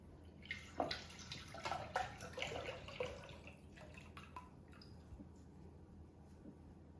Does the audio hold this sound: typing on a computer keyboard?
no